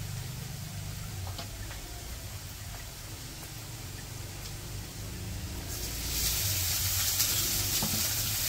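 Dried chili powder, turmeric, ginger-garlic paste and salt sizzle in hot oil for a village-style tengra fish curry, a steady close hiss that swells louder near the end, with faint stirring and no talk.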